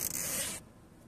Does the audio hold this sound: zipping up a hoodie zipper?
yes